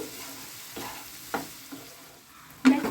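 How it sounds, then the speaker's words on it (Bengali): Spice paste frying in oil in a pan for chicken, stirred with a few distinct scraping strokes over a soft low sizzle, ending in a louder clatter near the close. "মশলাটাকে আরেকটু ভাজা ভাজা করব"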